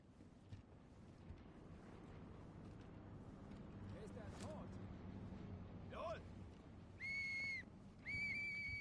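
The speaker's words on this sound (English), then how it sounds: "Blow your whistle, there ain't nobody coming." An enemy soldier blows a shrill alarm whistle in the Sniper Elite 5 video game, two sustained blasts near the end over a continuous rumbling game soundscape with a few distant thumps.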